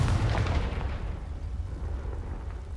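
Confringo spell in a Harry Potter video game goes off as a heavy, booming explosion with a low rumbling tail that stays loud and slowly fades, with no voices.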